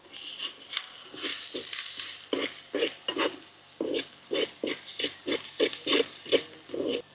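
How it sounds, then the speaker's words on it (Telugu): Chilli powder and whole chillies fry in hot oil for a home-style baby corn masala, a steady loud sizzle broken by repeated rhythmic stirring scrapes, close and alone with no talking. "మళ్ళా ఒక 2 చెంచాల కారం వేసుకుందాం. మిరపకాయలు వేసుకుందాం."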